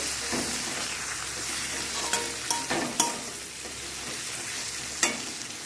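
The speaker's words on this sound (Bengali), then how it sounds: "দিয়ে সবকে একসাথে মিশিয়ে ভাজা করে নেব মশলার সাথে" Ground spices with turmeric and chili powder sizzle steadily while they are fried in a pan for a meat curry. Several sharp scraping stirs break through the constant frying hiss, with no talking.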